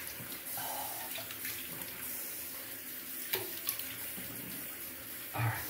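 Cold tap water runs steadily from a faucet into a sink during rinsing after a shave with a Merkur Futur razor, a continuous close splashing hiss with a few brief louder splashes and no talking.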